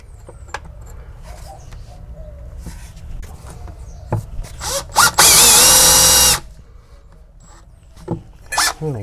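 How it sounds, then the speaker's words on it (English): A power drill bores a hole for the tank drain on an air dryer build, one loud sustained burst of about a second and a half amid scattered shop clatter and quieter handling noises. "Grab the drill."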